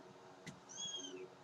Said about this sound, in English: So if you hear little mews, that's them.